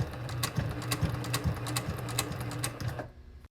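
A sewing machine stitches back and forth along the edge of a flap pocket, a steady close mechanical whirr with regular needle taps that runs for about three seconds, then stops.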